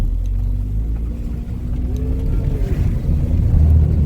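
A rubbish truck on a country road in St Thomas, Jamaica, its engine rumbling loud and close as it drives past, a steady low drone building slightly toward the end, no talk.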